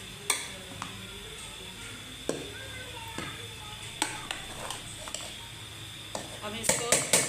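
A utensil stirs cooked rice in a metal pot, scraping and clinking against the sides in scattered taps, the knocks growing quicker and louder toward the end over a faint background hum.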